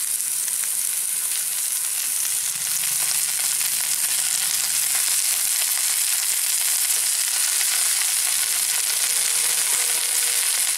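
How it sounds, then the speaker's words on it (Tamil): Toyyal spinach greens and onions sauté in a hot pan with a steady, close, bright sizzle that hisses evenly for several seconds, with a few faint stirring scrapes and no talking. "நல்லா சுருங்குற அளவு வதக்கணும்."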